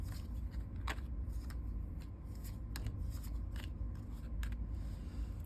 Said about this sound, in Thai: อืมจัดไพ่ก่อน